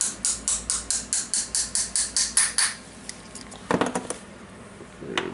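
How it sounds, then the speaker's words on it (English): Repeated metallic hammer taps seat a bearing during reassembly of a 1998 Makita cordless drill: about a dozen evenly spaced, sharp strikes close to the mic, then a few softer clinks and handling sounds. "We'll slightly hammer it."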